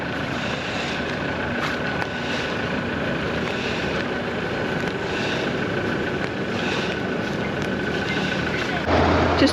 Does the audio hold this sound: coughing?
no